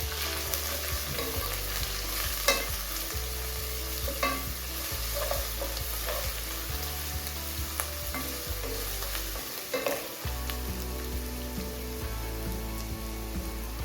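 Garlic and ginger fry with potatoes in a pan, giving a steady crackling sizzle with spattering pops and intermittent stirring scrapes, close and continuous with no voices.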